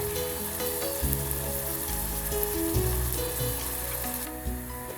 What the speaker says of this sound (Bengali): ব্রাউন কালার করে পেঁয়াজটাকে ভাজতে হবে